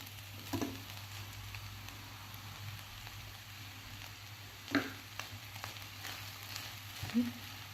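Lemon sautés in a pan while red rice poha is made, a quiet low sizzle underneath a few distinct stirring knocks and scrapes.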